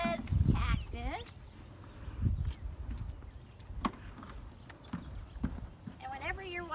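A horse walks with steady, fairly close clip-clopping hooves, heard under frequent children's and adults' voices throughout.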